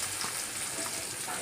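Onion fries in hot oil in a kadai along with cumin, fennel and cinnamon, giving a dense, steady sizzle with crackling pops, close and continuous with no talking.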